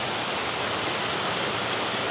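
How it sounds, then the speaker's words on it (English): A good-sized waterfall in the Arkansas woods, heard as a steady, even roar of rushing water, a broad unbroken wash of noise that stays constant throughout. "there is a pretty good size waterfall right through there"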